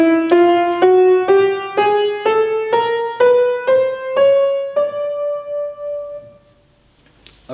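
A chromatic scale of twelve half steps rises note by note on a single pitched instrument, each tone struck separately in an even, steady rhythm, then the last note fades out alone.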